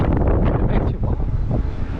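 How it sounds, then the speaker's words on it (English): Strong wind buffets the microphone at an outdoor theme park in April, giving a constant loud low rumble with gusty surges and brief dips. No voices can be heard. "Proper windy."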